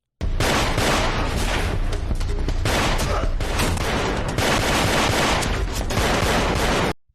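Loud, dense gunfire from an action scene in a Steven Seagal TV show: rapid overlapping shots with one brief break, then a sustained volley that cuts off abruptly.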